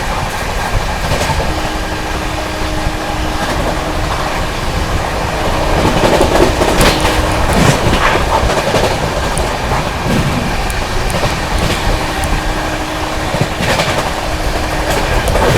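Duronto Express 22209, Mumbai Central to Nizamuddin, running at speed past Faridabad: a loud, continuous rumble with steady clickety-clack of wheels over rail joints and occasional rattles, unbroken throughout.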